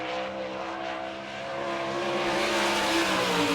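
Sprint race cars at a dirt speedway in Barberville, Florida roar past during an All Star Circuit of Champions race, a loud sustained engine drone that rises and swells as the cars approach.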